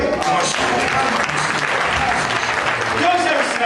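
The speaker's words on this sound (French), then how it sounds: "On peut applaudir pour le Seigneur." An audience at a church-style gathering in Luanda applauds, a dense, steady wash of many hands clapping that fills the whole stretch, loud and continuous, with a few voices faintly mixed in.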